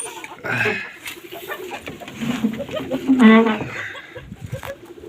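Pigeons coo and burble in low soft calls at an evening feeding outdoors, a few close birds murmuring intermittently with brief voices and rustling around them.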